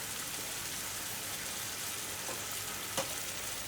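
Minced meat (qeema) for qeema chana frying in a pan, a steady broadband sizzle with a few brief clicks and stirs, close and fairly quiet with no talk.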